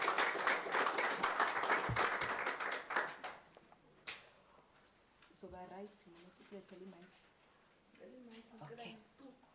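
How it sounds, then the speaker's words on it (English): Audience applause at an International Literacy Day celebration, a dense burst of clapping for the first few seconds that fades into scattered claps and then gives way to people talking. "Can we give it a round of applause, ladies and gentlemen?"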